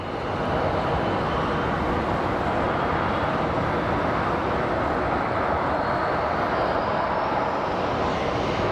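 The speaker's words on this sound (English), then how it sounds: "It's a Bombardier, look at it." A smoky Bombardier aircraft's engines at an airport give a dense, unbroken roar, loud and steady from start to finish, with a faint rising whine near the end and no voices.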